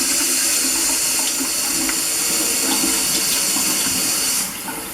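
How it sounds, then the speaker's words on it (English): Cold tap water runs steadily over a tie-dyed shirt being rinsed in a sink, a close, continuous hiss and splatter with small shifts as the fabric moves, cutting off sharply just before the end. "And then we rinse it. You want to start off with cold water."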